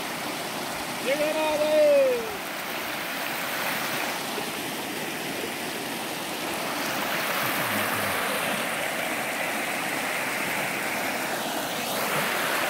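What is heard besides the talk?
rushing river water at a fishing spot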